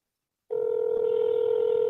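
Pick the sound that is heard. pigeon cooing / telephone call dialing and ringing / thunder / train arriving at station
telephone call dialing and ringing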